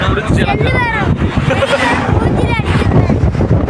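Strong wind buffeting a phone microphone outdoors on the way to a temple, a loud rumbling roar with gusts, while people talk over it.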